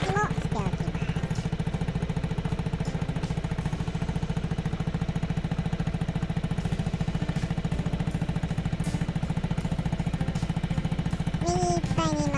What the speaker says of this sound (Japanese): 調整中のエンジン回転を安定させるため、アイドリングは少し高めにして、